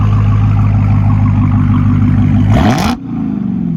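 A car engine rumbles at a deep, loud idle through its exhaust tips, then gives a short rev that rises and cuts off, leaving a lower, quieter idle.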